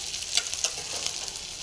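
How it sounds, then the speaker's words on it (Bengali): Onions and tomatoes fry in oil in a wok, a close steady sizzle broken by a few sharp crackles and light scraping stirs, with no voices. "পেঁয়াজ আর টমেটোটা একটু ভালো করে ভাজা হয়ে যায়"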